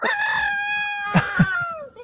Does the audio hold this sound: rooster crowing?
yes